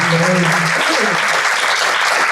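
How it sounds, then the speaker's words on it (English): Conference audience applause, loud and sustained clapping from a large room that fills the whole stretch, with a speaker's voice briefly audible at the start. "So please give both of these lovely guys a round of applause."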